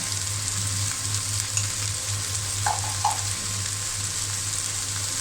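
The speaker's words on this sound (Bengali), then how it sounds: "সব উপকরণ দিয়ে দিয়ে আমি একসঙ্গে ভালো করে কষিয়ে নেব" Bottle gourd curry with turmeric, chili and coriander powder and salt fries in a pan, giving a steady even sizzle with a soft low hum and a couple of faint clinks, no talking.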